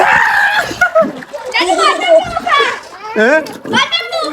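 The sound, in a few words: children splashing while bathing in water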